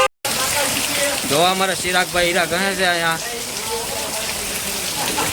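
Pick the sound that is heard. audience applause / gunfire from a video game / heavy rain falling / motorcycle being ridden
heavy rain falling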